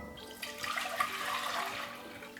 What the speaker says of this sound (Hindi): तो सबसे पहले दूध इसमें शामिल करते हैं।